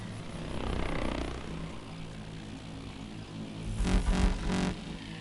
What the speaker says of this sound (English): Chopper's moving off.